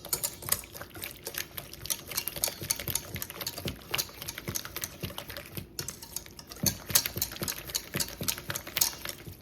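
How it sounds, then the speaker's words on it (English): Melting chocolate and cream are whisked in a bowl for chocolate truffles, producing a fast, continuous rattling clatter of whisk wires against the bowl sides, close and fairly loud throughout. "Just gonna whisk it."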